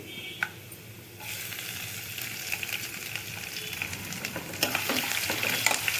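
Peeled garlic cloves from a whole medium-size bulb sizzle in a pan for tomato rice, starting with a faint clink before the frying swells into a steady hiss that grows louder near the end.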